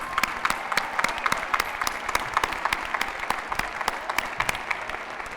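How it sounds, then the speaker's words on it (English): A commencement audience at UNC-Chapel Hill applauds mothers on Mother's Day, a steady roar of many hands with distinct individual claps popping through, sustained and fairly even throughout. "Moms, round of applause."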